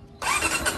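A motorcycle engine starts with a sudden burst after a quiet moment, then runs on steadily and close by.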